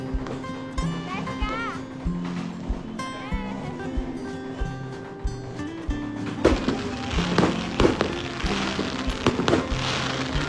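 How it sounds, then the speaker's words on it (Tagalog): New Year fireworks and firecrackers pop and crackle in bursts, sharper and denser in the second half, over a steady musical background with children's voices and chatter nearby. "umpisa na kami magsinde nitong mga fireworks"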